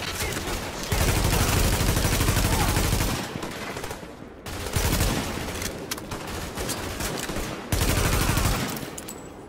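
Sustained automatic gunfire rattles in long, loud bursts during a firefight in The Division, with several sustained volleys separated by brief pauses.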